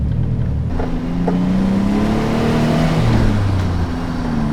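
A 1986 widebody Nissan 300ZX accelerating onto a highway, its engine note rising steadily through the gears with a gear change partway, heard from inside the car over road noise.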